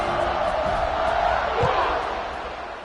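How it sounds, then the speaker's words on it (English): A stadium crowd in a college football video game: a steady, loud roar and buzz after a score, dense and continuous, with one dull thump partway through and an announcer's voice over it. "this crowd is buzzing after that last score"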